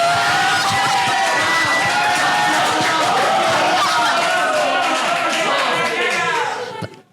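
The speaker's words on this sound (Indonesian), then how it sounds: "Tepuk tangan." An audience applauding at a school alumni event, loud dense clapping mixed with cheers and whoops that runs steadily for about seven seconds before cutting off.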